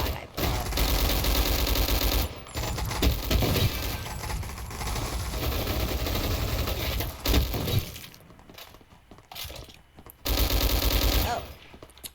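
Rapid automatic gunfire in a video game gun fight arena, bursts of loud crackling shots with breaks between volleys, while players talk over the action.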